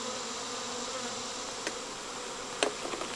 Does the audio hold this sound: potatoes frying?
no